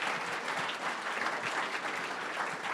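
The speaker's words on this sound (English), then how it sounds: "All right, let's give a round of applause to Fetch." At a startup pitch event at Atlanta Tech Village, the audience gives a round of applause, an even, fairly soft wash of many hands clapping throughout.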